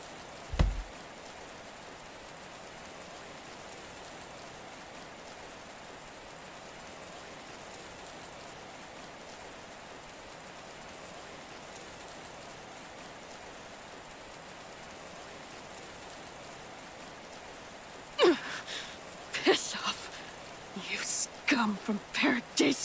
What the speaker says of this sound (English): You're getting soaked in the rain.